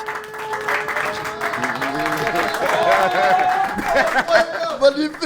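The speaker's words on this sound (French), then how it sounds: "faire un tonnerre d'applaudissements pour Malik?" A stand-up comedy club audience applauds a comedian, moderate clapping and crowd noise under cheering voices and a host's talk, building slightly before fading.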